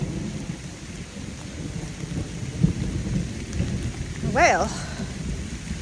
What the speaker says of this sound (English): It started raining already. It's pouring